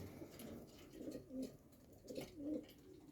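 Racing pigeons coo softly in their loft, several low throaty burbling calls repeated in a loose rhythm, faint against a quiet background with no voices.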